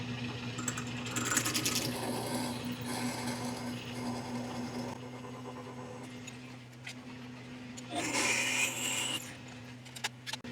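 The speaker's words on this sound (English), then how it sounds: "I'm intentionally stepping up through a couple different size drill bits here to hopefully keep a nice concentric hole." A drill bores into a cast iron muffler for an air cooled Red Wing engine model, a steady mechanical whir and grinding with a couple of sharper cutting bursts, close and moderately quiet, with no talking.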